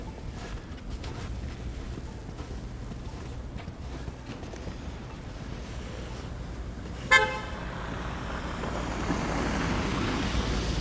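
A single short car horn toot sounds at mid-distance over steady wind and traffic rumble outdoors on a snowy Toronto street during a winter storm.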